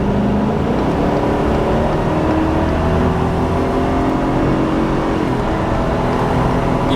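A Ford F350 pickup with the 7.3L gas engine accelerating at wide open throttle amid traffic, a loud, sustained engine drone rising in pitch from inside the cab, with no talk over it.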